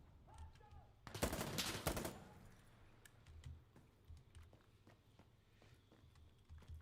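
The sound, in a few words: gunfire in the video game Insurgency Sandstorm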